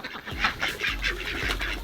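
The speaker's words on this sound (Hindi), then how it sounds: "हमारे आते ही सारी ये बतखें हमारे पास आ गई खाने के लिए" Several ducks at an animal garden pond in Bali quacking and honking close by, a busy overlapping chorus of calls with no talking.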